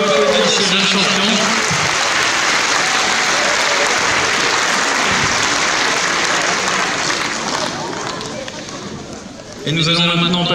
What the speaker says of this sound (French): Oui, on peut applaudir ce jeune champion.